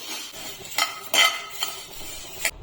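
Cloves and curry leaves roasting in a pan, heard as a few sharp metallic scrapes and clinks of a spoon stirring against the pan over a quiet background, spaced irregularly and close.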